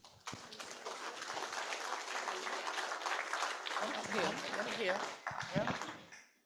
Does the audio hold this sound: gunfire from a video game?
no